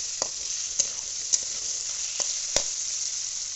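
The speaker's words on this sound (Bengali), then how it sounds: "আমি একটু ভালো করে ভেজে নিই ইয়েগুলো, সবজিগুলো" Vegetables for chow mein frying in a pan, a bright steady sizzle with a few sharp clicks of a spatula stirring, close by and with no talking.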